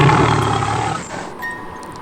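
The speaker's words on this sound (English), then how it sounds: "This animal is tiger." A tiger gives a loud, deep, rumbling roar that fades out over about a second, heard alone without any talking.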